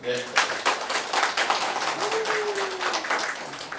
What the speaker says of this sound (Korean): 제16회 임종국상 시상식을 여러분의 뜨거운 박수로 시작하겠습니다.